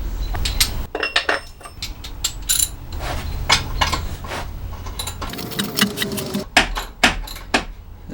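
Hand ratchet and wrench loosening half-inch downpipe bolts on a Saab 900: repeated metallic clicks and clinks in irregular bursts, close and fairly loud, with tools knocking against metal between them.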